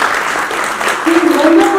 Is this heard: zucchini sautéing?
no